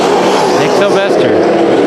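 IMCA Sport Mod race cars roaring past on the Bakersfield Speedway dirt oval during a heat race, loud sustained engine drone with rising and falling passes, with a race announcer talking over it.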